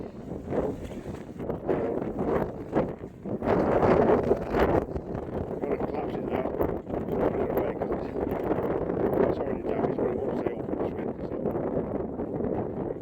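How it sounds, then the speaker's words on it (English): Strong wind at a campsite in March roars and buffets the microphone in a steady, rumbling rush with gusty swells, continuous throughout with no voices. "And it has been particularly windy."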